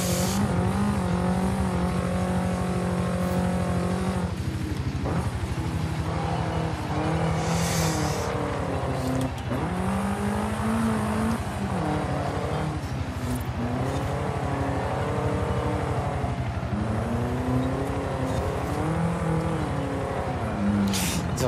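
A Fiat Abarth 131 Rally car in a racing video game, its engine revving continuously with rising and falling pitch through gear changes, loud and steady across a long run with brief tire noise.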